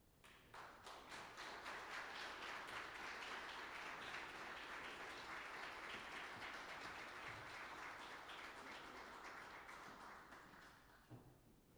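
An audience at a Portland civic forum applauds steadily as panelists come onto the stage, dense clapping sustained for about eleven seconds before tapering off.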